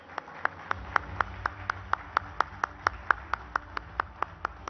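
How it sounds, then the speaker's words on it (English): Clapping at a national news conference, heard as evenly spaced, crisp claps in a steady quick rhythm over a faint room background. "Can we give him a big round of applause, please?"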